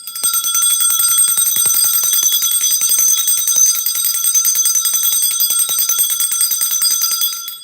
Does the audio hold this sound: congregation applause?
no